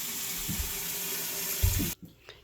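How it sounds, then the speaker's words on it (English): Warm tap water runs into a pot being filled about half full for hard cider, a steady close rushing stream that cuts off abruptly near the end, followed by a few faint drips and clinks. "we're going to fill that with water"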